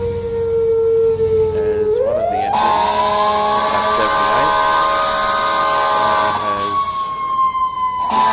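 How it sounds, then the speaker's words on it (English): Emergency vehicle sirens from a fire engine in the EmergNYC simulation game, a loud wailing tone sweeping upward and holding steady, continuous throughout beneath someone talking. "The AI is controlling all the sirens, just in case you're wondering."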